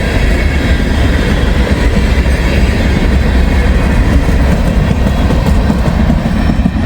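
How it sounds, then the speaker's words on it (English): A ballast train rolls past close by, a loud continuous rumble with rhythmic clickety-clack of wheels over rail joints, steady throughout. "Pretty cool catching that ballast train."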